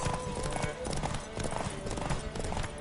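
Rhythmic hoofbeats of a galloping horse in The Witcher 3: Wild Hunt thud steadily throughout, mixed with game music and sound effects, with some voice activity underneath.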